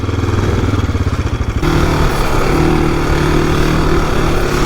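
An AJP PR7 motorcycle ridden off-road on an adventure ride, its engine loud and close, with a pulsing low-rev throb that rises to a steady, higher drone partway through.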